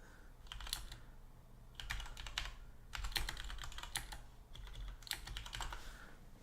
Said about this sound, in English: Sorry, I was typing.